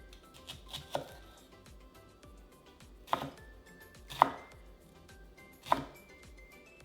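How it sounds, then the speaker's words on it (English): Knife dicing a peeled shallot finely on a cutting board, with sharp chopping strikes at irregular intervals, close and fairly clear. "And we're gonna dice this up."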